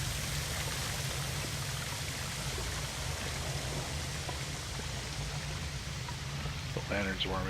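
Steady broadband rush of a waterfall in The Long Dark, loud and continuous throughout, with a brief voice near the end.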